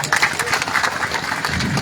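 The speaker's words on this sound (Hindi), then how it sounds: "एक बार मंच में बैठे सबको जोरदार ताली बजा दीजिए" An audience at a political rally in Jharkhand claps loudly, a dense wash of applause that runs continuously and close throughout, with a voice carrying briefly over it.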